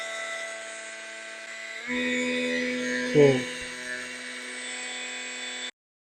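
A budget oscillating tool runs as a steady high electric whine with a constant tone, shifting pitch slightly as its speed setting changes, close and loud with brief low clunks from handling.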